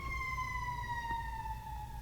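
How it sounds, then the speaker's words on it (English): An emergency vehicle siren wails steadily outside in a smooth, slowly falling tone, fairly distant and muffled behind a low rumbling background, lasting the full two seconds. "sirens, sorry."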